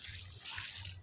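Water pouring onto eggplant plants, a brief steady hissing splash with a faint low hum underneath, close and continuous.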